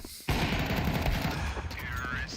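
Rapid automatic gunfire from a Counter-Strike match at a PGL Bucharest esports tournament bursts in after a brief quiet start, a dense, loud, sustained rattle of shots that holds steady to the end.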